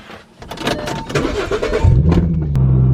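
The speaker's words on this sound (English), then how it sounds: "I might not be able to film in the Mustang because it's so loud" A Ford Mustang engine starts up and settles into a loud, deep rumbling idle close by, with mechanical clicks and whirring before it catches.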